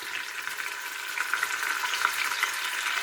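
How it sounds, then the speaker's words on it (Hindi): Finely chopped onions fry in hot oil for chicken yakhni pulao, giving a constant close crackling sizzle that swells slightly partway through, with no voices. "तेल डाल के इसमें प्याज जो है ये ब्राउन होने तक बिल्कुल गोल्डन ब्राउन हो जाए।"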